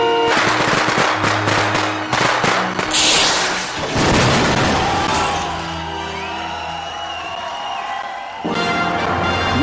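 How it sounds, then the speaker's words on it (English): A staged explosion sounds as a loud, dense stretch of rapid cracks and booms that gives way to a roaring, rumbling wash of noise lasting several seconds. "for the purposes of a gratuitous explosion"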